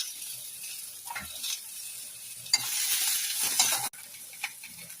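Tomatoes, curry leaves, coriander, garlic and ginger sauté in a hot pan, sizzling softly with intermittent stirring scrapes and hissing bursts, fairly close and quiet.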